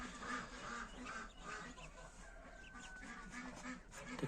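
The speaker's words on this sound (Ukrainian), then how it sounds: "Ось такі осінні каченятка ось такої прекрасної матусі." Soft, repeated peeping and quacking of autumn ducklings with their mother among other fowl, including a turkey, faint and continuous with a quiet background.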